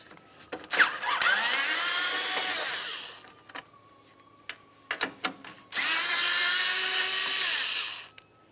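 On a 2012-2017 Toyota Camry, a power tool whirs in two long loud bursts to remove radiator bolts, with short clanks and handling noises between the runs.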